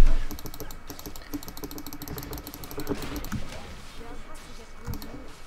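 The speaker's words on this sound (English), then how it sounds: "the keyboard I'm using right now" Continuous typing on a computer keyboard during a League of Legends session, a steady patter of key clicks with occasional louder strokes, close up, with a voice speaking over part of it.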